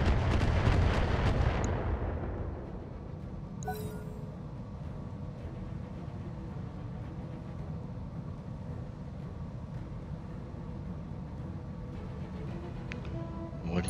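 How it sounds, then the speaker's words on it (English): Heavy weapons fire from mechs in a Battletech Roguetech battle, a loud booming volley that fades into a long low rumble, with a sharp crack near the start and scattered faint impacts afterward. "Oh, they're shooting already."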